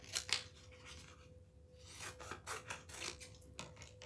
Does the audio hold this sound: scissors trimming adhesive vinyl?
yes